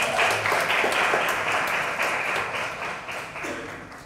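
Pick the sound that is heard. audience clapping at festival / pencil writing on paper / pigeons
audience clapping at festival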